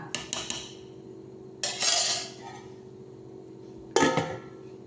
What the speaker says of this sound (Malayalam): ഇത് മൂടി വെച്ച് വേവിക്കാം കേട്ടോ.